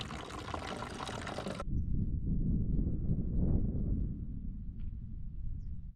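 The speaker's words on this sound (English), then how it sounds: "good thing I can filter some water." Water trickles and splashes steadily at close range while being filtered, a continuous liquid flow that briefly swells midway before settling back down.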